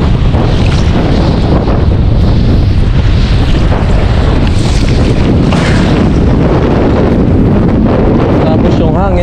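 Strong wind buffeting a small fishing boat at sea during night fishing, a loud, constant roar of gusts and microphone rumble mixed with water wash, unbroken and close for the whole stretch.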